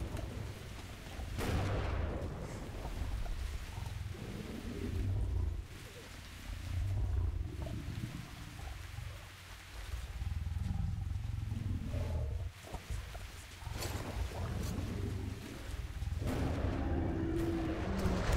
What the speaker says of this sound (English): Don't tell me I'm going to face a bear.